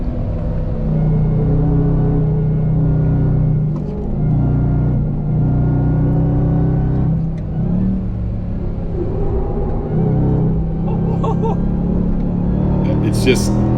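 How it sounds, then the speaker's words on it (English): A supercharged Ram TRX pickup truck roars on a racetrack, its engine sound steady and loud throughout, rising and falling in pitch as it revs through corners. "Listen to this truck"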